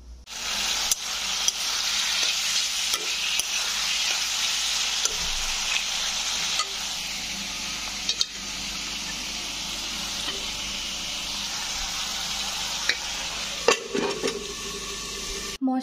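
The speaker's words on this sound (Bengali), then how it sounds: "মশলাটা ভালো করে কষে আর এই চাল ডালটাকে একসাথে মশলার সাথে মিশিয়ে নিয়ে রান্না করলে" A steady sizzle of spices frying and being stirred with rice and lentils for khichuri in a pot, with occasional scrapes and clinks of a spatula. It continues close and unbroken, with no talk.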